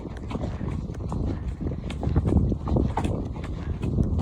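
Horse hooves trot along an outdoor hacking path in a steady clip-clop rhythm, heard close and continuous throughout from the rider's position.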